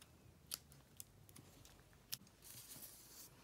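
Scissors snip the loose string ends on a pencil broom craft, giving a few quiet, close, sharp cuts spaced apart, with soft handling rustle between them and no talking.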